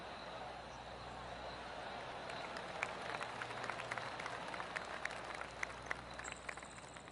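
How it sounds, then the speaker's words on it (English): Polite golf clap from a small gallery of spectators after a shot on the 18th hole in the PGA Tour 2K23 video game, steady soft applause with scattered sharper claps throughout over a low ambient hum. "Oh, golf clap."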